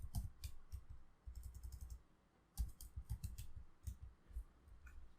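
Keys on a computer keyboard clatter in quick bursts as a command is typed at a command line, crisp close clicks in short runs separated by brief pauses, with no talking.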